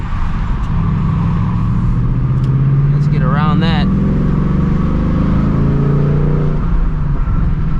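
A 2024 Ford Mustang GT with a 6-speed manual drones steadily from inside the cabin while driving, its low engine note holding at an even, loud level as someone talks over it.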